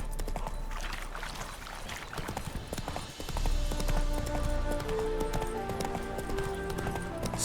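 Horse hooves clip-clop in a quick rhythm in the video game The Witcher 3: Wild Hunt, with a soft musical tone and low ambient rumble underneath.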